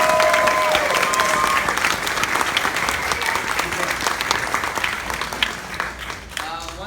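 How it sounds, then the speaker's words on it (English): A theater audience at a Morristown Theater Guild performance applauds their director, with steady, full clapping filling the room throughout and a few faint voices and whoops mixed in. "please give a nice round of applause to our director for Books Alive this year"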